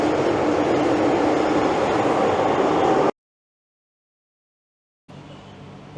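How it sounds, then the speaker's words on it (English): A new Hong Kong MTR railway car runs loudly, giving a steady, dense rumble and roar for about three seconds, then sudden silence, then a quieter continuing hum. "this is the new railway car. If you can kind of tell, it is different. It is a bit loud."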